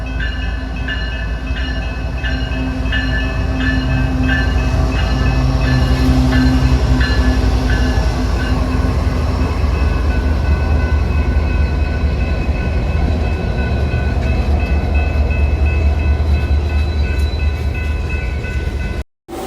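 Freight train M457 rolls past at very slow speed near Orlando's Taft Yard, a steady loud rumble with squealing wheel tones and rhythmic clicking over the rails, continuous and close for the whole stretch.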